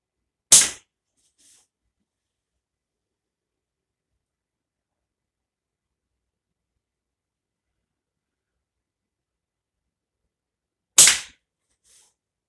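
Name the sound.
shooting a beanflip slingshot with light bands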